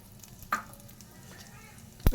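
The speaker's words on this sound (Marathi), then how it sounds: "थोडंसं फोडणीमध्ये टाकते मोहरी, मोहरी छान आपली तडतडली" Mustard seeds and cumin crackle in hot butter for a tempering in a spicy idli fry, giving a quiet, steady sizzle with a couple of sharper pops and a stirring clatter near the end.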